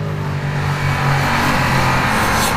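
A 2019 Ducati Diavel 1260 S motorcycle accelerates hard between bends, and its engine roars loud and continuous with dense, steady power and no pauses.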